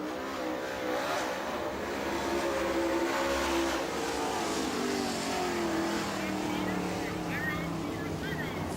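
A limited late model race car drones around the speedway, its engine roaring steadily at a distance while an announcer talks over it.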